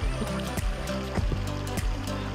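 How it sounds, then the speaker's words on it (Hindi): Cold snowmelt water pours down at Sahastradhara waterfall near Dehradun, Uttarakhand, a steady close rush of splashing flow with brief louder surges throughout. "बर्फ का पानी नीचे आ रहा है"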